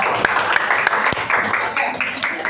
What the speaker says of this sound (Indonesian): berikan dulu aplaus ya